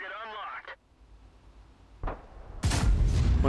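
A tank cannon fires in World of Tanks, with the T49 facing a GW Panther: a sharp, loud report that rolls into a heavy booming blast, after a brief whistling sound and a short mid-clip thump.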